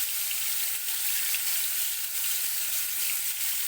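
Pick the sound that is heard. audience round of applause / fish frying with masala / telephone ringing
fish frying with masala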